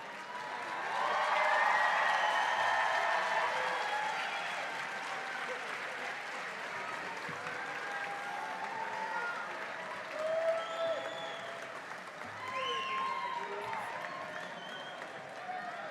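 A large crowd at the Penn Dental Medicine Class of 2023 White Coat Ceremony applauds as the class is welcomed. The clapping is loud and sustained, rising early and holding steady, with voices and cheers mixed in.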